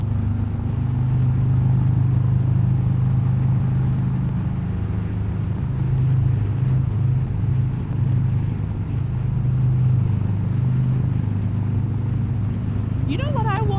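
A motorcycle cruises along a highway in December with a steady low engine drone and wind rush that hold throughout.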